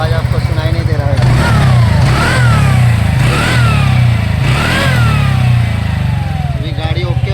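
A TVS Ntorq 125 BS6 scooter engine runs steadily close by after a repair, a smooth, even low putter that holds without knocking, while someone talks over it throughout.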